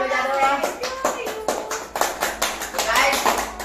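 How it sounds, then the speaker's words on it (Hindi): Clapping from a group of people at a birthday celebration, just after the birthday song and cake cutting, with several bursts of sharp, close hand claps that run steadily throughout. "सभी ताली बजा दो"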